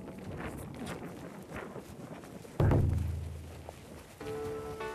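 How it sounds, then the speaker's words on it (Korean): Cold wind gusting outdoors in wintry Norway at a frozen campsite, a steady rushing roar against the microphone with a sudden loud thump partway through and a brief rising tone near the end. "우와, 바람."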